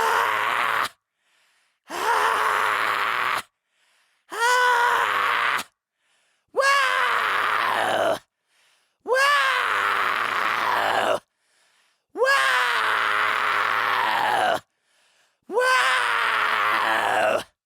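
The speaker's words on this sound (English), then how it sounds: "I like to also sometimes use my falsetto voice in the background of my high-pitched false chord screams" A vocalist performing high-pitched false cord screams with a falsetto layered behind, seven separate strained, rasping bursts of one to two seconds each, split by short silences, close and loud.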